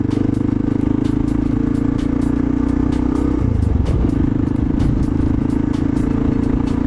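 A Kawasaki KLR650 motorcycle with an aftermarket Delkevic exhaust rumbles steadily at idle with a deep, throaty exhaust note that shifts briefly midway before settling back into its drone.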